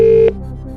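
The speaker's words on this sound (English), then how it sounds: "Alright, let's get Luigi on the line." A loud, steady telephone tone for a phone-a-friend call on a quiz show cuts off abruptly, leaving a quieter electronic hum behind with no talk.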